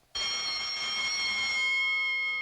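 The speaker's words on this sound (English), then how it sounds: "The alarm." A steady electric alarm bell rings in a cartoon bank holdup, starting abruptly and continuing loud and unbroken with a bright metallic tone, no voices over it.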